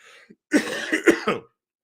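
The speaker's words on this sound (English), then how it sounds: "Excuse me, I still have a cough." A single close, raspy cough burst of about a second, preceded by a faint breath, otherwise quiet.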